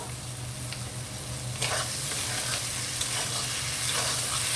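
Brain pieces fry with garam masala and ground pepper in a pan, a steady close sizzle with occasional scraping stirs and clatters of a spoon, no voices.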